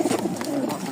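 Domestic pigeons, including fantail and racing pairs sold by a Bangladeshi pigeon dealer, give soft, low cooing calls close by, with a few brief throaty coos in quick succession and no speech.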